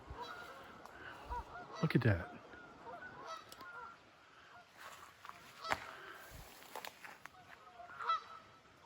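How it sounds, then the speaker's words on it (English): Geese honk from a waterside spot, with one loud close call and scattered fainter honks around it, while someone speaks briefly over the scene. "geese are obnoxious creatures. They might be beautiful birds, but they're dirty and they're loud"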